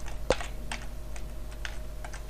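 Someone types a captcha on a computer keyboard in a short run of light, quick key clicks at a steady pace. The clicking is close and clear over a faint hum, with no talking.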